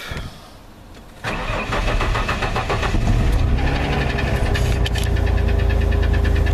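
A 1993 Ford F-150 six-cylinder engine cranks briefly after a quiet moment, catches, and settles into a loud, steady idle with a ticking rattle, nearby.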